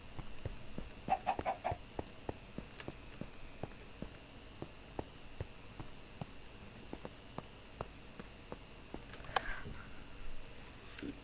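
Soft, sparse clucking from a chicken in Minecraft with faint regular ticking steps underneath, quiet and fairly distant.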